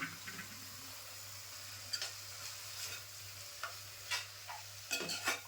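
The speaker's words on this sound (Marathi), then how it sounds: "आता सगळं परतून घ्यायचं." Aubergine bharit masala sautés in a pan with a splash of masala water, giving a soft continuous sizzle broken by scattered sharp scrapes and clicks of stirring, close and fairly quiet, with no talk.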